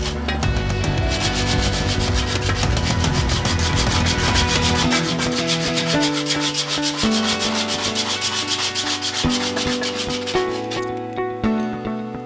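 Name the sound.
rasping or filing metal for homemade barbell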